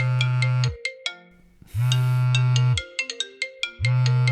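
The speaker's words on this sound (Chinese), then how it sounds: "关键电话来了，等我接完这个电话，结果就知道了。" A phone ringtone sounds for an incoming call, a loud, close melodic tune of bright repeated notes broken by low buzzing bursts, with no voices.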